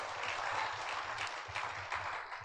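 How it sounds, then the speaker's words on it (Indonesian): A church congregation applauds Jesus during a Sunday service, giving a faint, steady patter of clapping over a low rhythmic rumble. "Kita kasih tepuk tangan dulu buat Tuhan Yesus."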